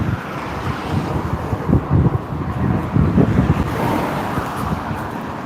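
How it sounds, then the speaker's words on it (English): Continuous traffic noise from cars passing on a street, a steady broadband roar with low rumbling swells as vehicles go by, mixed with wind buffeting the microphone. "A lot of background noise, I apologise, there's a lot of cars about."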